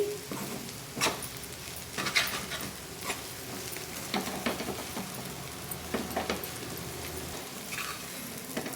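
Okra (bendakaya) frying in a pan with chili powder, sesame seeds, peanuts and coconut gives a steady close sizzle, broken by repeated spatula stirs and scrapes about once a second, with no talking.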